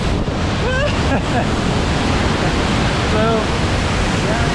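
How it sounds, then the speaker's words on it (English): Giessbach waterfall near Brienz, Switzerland, roars up close as a loud, dense rush of water with wind buffeting, while a person speaks briefly over it. "this waterfall, that's really the most beautiful one among all of them"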